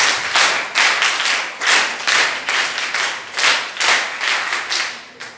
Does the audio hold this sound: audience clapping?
yes